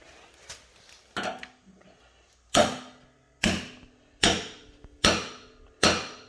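A small sledgehammer strikes repeatedly while a cheap car lift is being installed. Five sharp, loud blows land at a steady rhythm, each ringing briefly and then decaying. Softer knocks and handling noises come before the first strikes.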